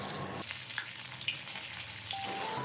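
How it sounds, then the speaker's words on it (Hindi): Besan gatta balls fry in hot mustard oil, giving a loud, continuous close sizzle with faint crackles and no voices. "एहिके उल्टाबैत पलटाबैत 2-3 मिनट के लेल फ्राई कऽ लेलहुँ हँ।"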